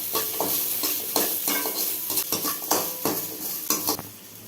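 Onions with a little salt sautéing in a pan for an egg paniyaram kulambu, a steady sizzle broken by repeated rhythmic scraping strokes of a spoon stirring, close and fairly loud, no voices.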